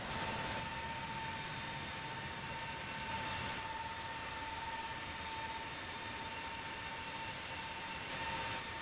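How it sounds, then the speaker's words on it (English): A fixed-wing airplane taxiing toward runway 7 left, heard as a steady engine drone with a constant whine that runs the whole time without a break, fairly quiet and heard alone. "Taxiing to runway 7 left and holding short."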